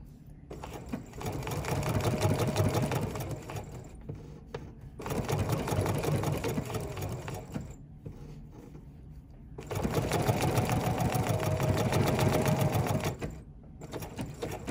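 A sewing machine runs decorative stitches in three bursts of steady, rapid needle clatter, pausing briefly between runs while the fabric is pivoted.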